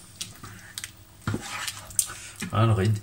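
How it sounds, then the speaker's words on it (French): Shrimp and courgette risotto stirred in a pan, the utensil scraping and clinking against the metal in a few short bursts, close and moderately loud, with a brief stretch of muffled low rumble near the end. "Voilà, je mélange bien."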